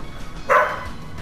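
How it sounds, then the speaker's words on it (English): A single short dog bark, clear and fairly close, stands out over a quiet room background. "Did my dog just bark?"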